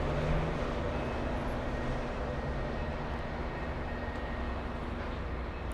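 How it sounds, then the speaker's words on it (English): Jet airliner on low final approach to land at LAX, a steady broadband engine roar with a faint whine holding evenly throughout, fairly distant and alone. "It's coming in low to the ground."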